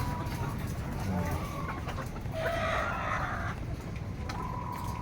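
Laying hens cluck and call inside a coop, a few short bird calls rising over a constant low background hum.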